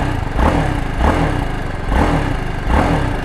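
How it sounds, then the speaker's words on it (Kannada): A BMW GS 310 motorcycle engine idles with a blipped throttle, pulsing in four close, even revs over about three seconds, loud and near, with no voices. "ನಾನು BMW GS 310 ತೊಗೊಂಡಿದ್ದೀನಿ ಗೌತಮ್ ಅವ್ರದ್ದು. ಫಸ್ಟು ಒಂದು ಎಕ್ಸಾಸ್ಟ್ ನೋಟ್ ಕೇಳಿಸ್ಕೊಬಿಡಿ"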